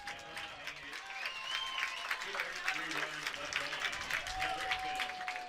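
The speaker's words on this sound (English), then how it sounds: "Fans for both schools stand up and cheer as Adelphi comes out of the dugout for the final time." Softball fans of both schools cheer and applaud at the 2022 Division II softball championship game between Adelphi and Seton Hill, a sustained crowd roar with clapping as a commentator talks over it.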